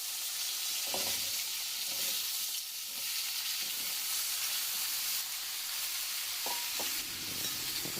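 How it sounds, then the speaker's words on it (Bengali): Potato, pumpkin and eggplant frying together in a pan with bay leaves, dried chillies and five-spice, giving a soft continuous sizzle and hiss broken by a few light clinks of stirring. "বেগুন এগুলোকে সমস্ত একসাথে ভেজে নেব।"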